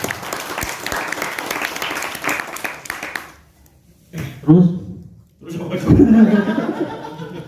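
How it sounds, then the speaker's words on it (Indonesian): Audience clapping and some laughter at a youth organization's 60th anniversary motivational speech, a burst of applause with chuckles fading into a quiet gap, then further loud clapping and cheering resumes, with voices mixed in. "Tepuk tangan dulu untuk maskulin dan feminin yang cerdas"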